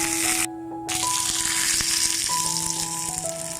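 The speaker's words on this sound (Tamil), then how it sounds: "இப்போ நம்ம வச்சுருக்க கருவேப்பிலை, கொத்தமல்லி இதில் சேர்த்துக்கலாம். இதெல்லாம் நல்லா வதக்கி விடுங்க." Curry leaves and coriander sauté in a pan for Madurai-style roasted gram chutney, a dense, continuous close sizzle with no talking.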